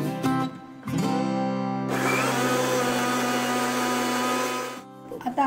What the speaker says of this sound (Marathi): आपण ह्यामध्ये थोडंसं पाणी घालून घेऊया आणि हे वाटण वाटून घेऊया.